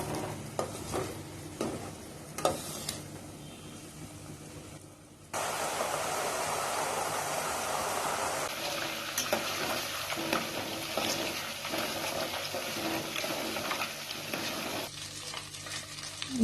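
Butter boiling down into homemade ghee in a pot, a steady bubbling sizzle that swells louder midway and holds as a continuous frying hiss, with a few clinks and stirring sounds early on.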